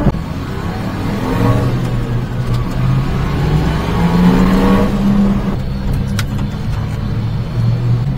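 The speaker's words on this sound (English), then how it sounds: "Yeah, see, these tires aren't that noisy." A Daihatsu Atrai micro van on new tires cruises along the road, its engine hum and steady tire roar filling the cabin with rising and falling pitch as speed changes, loud and continuous.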